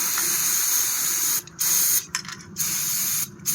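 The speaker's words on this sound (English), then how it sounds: "Brake cleaning." Aerosol brake cleaner blasts onto engine parts of a 2002–2007 Honda Aquatrax jet ski during timing chain and cylinder head work: a loud, close, continuous hiss broken by several short pauses between bursts.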